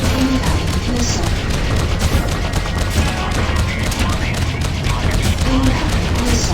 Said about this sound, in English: Incoming missile. Taking damage.